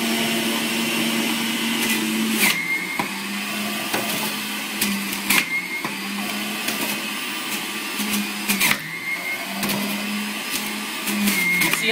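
A Breville centrifugal juicer with an 850-watt motor spinning at 12,000 RPM juices apples, a steady high-speed whirring hum with a sustained tone and brief sharper bursts as fruit is pushed through, loud and close throughout with no talking.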